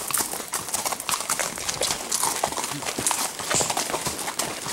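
Horse hooves clip-clop on a trail at Grayson Highlands State Park, a brisk uneven run of hoofbeats close and fairly loud throughout.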